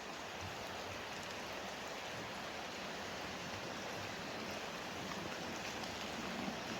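Steady rain falls in a forest, a constant even hiss with no distinct drops or voices standing out.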